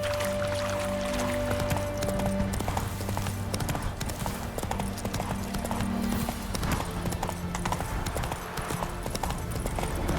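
Hooves of Roach, Geralt's horse in The Witcher 3, clip-clopping in a steady walking rhythm, close and continuous over ambient game sound for around ten seconds.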